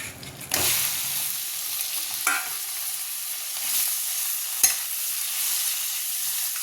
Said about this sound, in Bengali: বাটারটা মেল্ট হয়ে গেছে, এবার চিকেনটা দিয়ে দেবো।